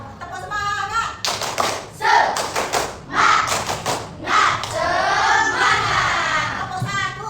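A classroom of pupils claps together in a rhythmic cheer pattern, loud bursts of sharp claps in quick groups, mixed with voices calling along.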